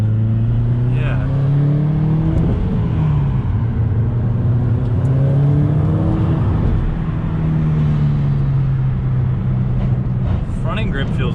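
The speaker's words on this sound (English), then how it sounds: "It kind of has that nice little blow-off noise too." A 2019 Subaru STI running on E85 with equal-length headers revs up and down from inside the cabin, a loud, steady engine drone that rises and falls, while people talk over it.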